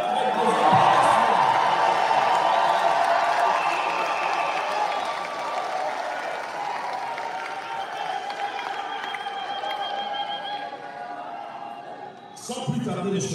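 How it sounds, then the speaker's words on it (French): A large diaspora crowd in Belgium applauds and cheers for the president at a speech event. The dense clapping and shouts are sustained for over ten seconds, then dip and briefly swell again at the end. "Si vous êtes d'accord avec moi, manifestez-le avec vos applaudissements."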